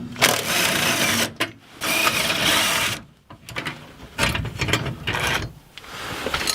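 A ratchet wrench works 10mm bolts loose from the seat belt motors in a BMW E46 M3, rapid close clicking bursts broken by short pauses.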